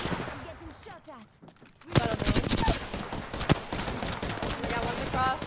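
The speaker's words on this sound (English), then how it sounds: "I'm getting shot at." Gunfire in Apex Legends: sustained rapid automatic shots crackling close and loud after a quieter opening with distant pops, with players talking over the shooting.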